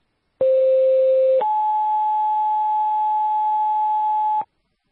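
Two-tone fire dispatch alert over a county mutual aid radio channel: a steady lower tone about one second long, then a longer higher tone lasting roughly three seconds, loud and clean with no voice.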